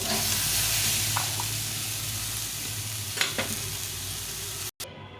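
Bori, small sun-dried lentil dumplings, fry in a pan of oil with a steady close sizzle throughout, a few brief scrapes partway through, and a sudden cut near the end before the sizzle resumes.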